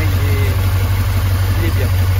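A 1978 Porsche 928 with its 4.5-litre V8 idling warm, a loud, steady low rumble that holds an even, regular beat throughout.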